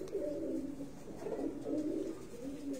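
Young pigeons, a year to a year and a half old, coo continuously in low, throaty rolling phrases from a rooftop loft in Faisalabad. Several birds overlap close by and fairly loud, with no talking.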